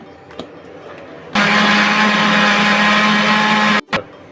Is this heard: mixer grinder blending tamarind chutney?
yes